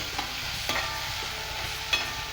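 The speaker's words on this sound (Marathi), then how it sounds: "आता हा कांदा आपण छान मऊ करून घेऊया" Onion softens in a pan with a continuous sizzle while a spoon scrapes and stirs it in a few distinct strokes, close and fairly loud, with no voices.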